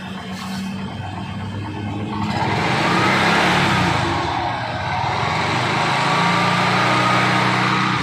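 A car engine runs loudly and steadily, rising in a sustained rev around the middle as the accelerator is opened, then settling back slightly while staying strong, with no speech.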